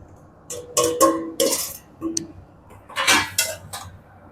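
Cooled cooked rice mixed in a pan, heard as a few separate bursts of metal spoon clatter and scraping against the pan, separated by short quiet gaps.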